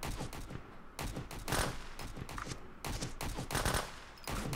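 Full-auto gunfire in the Road to Vostok survival shooter, sustained bursts of rapid shots coming in at the player, loud and dense with brief gaps between strings of fire.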